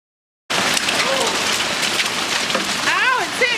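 Hail storm pelting a garden, a dense, steady clatter of stones striking surfaces close by, with brief high whistling or a voice-like tone briefly rising above the continuous roar.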